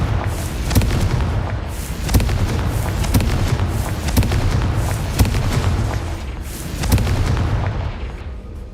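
Repeated booming Confringo blasting-spell explosions in the Hogwarts Legacy video game, loud dense bursts firing every second or so over a constant rumbling background.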